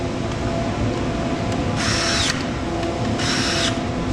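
A power drill drives screws into a tote storage rack under assembly, two short high-pitched whirring bursts over a steady background hum, close and loud.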